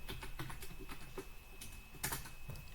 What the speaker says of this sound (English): And type that again.